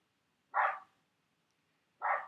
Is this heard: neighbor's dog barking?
yes